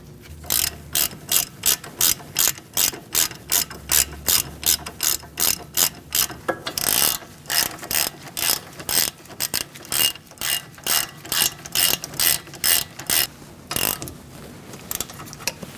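A hand ratchet tightening brake caliper bolts on a 2002-2006 Toyota Camry, a close, loud, rapid string of regular clicks in strokes with a short pause partway through before the clicking resumes.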